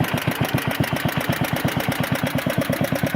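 A small engine fires up and runs in a shop after an ignition coil power fault was fixed, chugging in a steady, fast, even rhythm of loud close pulses throughout.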